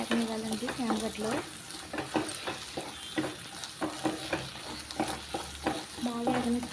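Taro root (chamadumpa) fries in hot oil while being stirred, giving a steady close sizzle broken by scrapes of a spatula. A person's voice comes in briefly near the start and again near the end.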